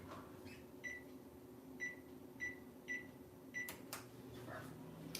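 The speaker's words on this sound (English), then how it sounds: "I'm going to turn the oven on" Microwave-style oven being switched on: a series of short electronic beeps from button presses at a steady spaced rhythm, then a couple of sharp clicks, over a low steady hum in a quiet room.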